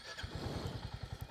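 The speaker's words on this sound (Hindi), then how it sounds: "ये बाइक स्टार्ट हो गई" A 2022 Royal Enfield Hunter 350 single-cylinder motorcycle fires up and settles into a steady, rapid thumping idle, close and moderately loud, with no voices.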